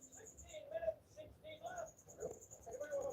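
Caged pet crickets chirp in a steady, thin, high trill that runs through the whole stretch, partly buried beneath a nearby conversation.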